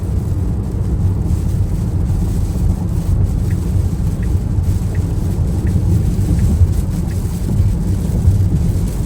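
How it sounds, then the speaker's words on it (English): Heavy rain drumming on a Tesla while driving, heard from inside the cabin as a loud, continuous broadband roar with steady road rumble beneath and faint repeated ticks. "It's just a start of a downpour."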